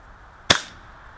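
A KJWork KC-02 Version 2 gas blowback airsoft carbine, running on a gas magazine, fires a single sharp crack close by, followed by a brief metallic rattle of the blowback action.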